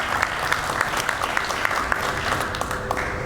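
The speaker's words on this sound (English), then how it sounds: "give yourselves a round of applause" Steady, close-sounding applause fills the room at a LEED award ceremony, an audience clapping continuously with a few sharper individual claps standing out.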